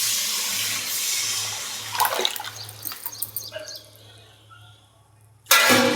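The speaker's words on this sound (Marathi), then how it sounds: "डाळीतलं पाणी काढून ठेवलं होतं, ते ओतणार आहे त्याच्यात" Water saved from cooked lentils is poured into a blackened kadhai, giving a splashing, gurgling pour that rises, trails off into quieter trickles and ends with a sudden loud splash.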